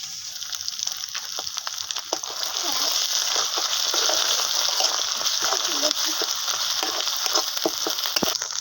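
Whole spices fry in hot oil in a pan for a silver carp fish curry, with mustard paste about to go in. A steady close sizzle runs throughout, dotted with sharp crackles and pops.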